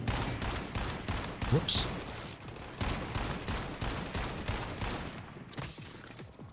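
Rapid bursts of gunfire in the survival shooter Once Human, dense overlapping shots crackling in quick volleys, fairly close, with a player's voice briefly speaking over the action.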